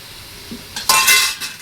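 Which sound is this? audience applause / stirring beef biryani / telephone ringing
stirring beef biryani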